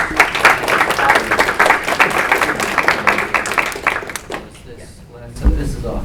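Audience applause fills a lecture hall at a science and storytelling talk, dense steady clapping for several seconds before thinning out, with a brief thump near the end.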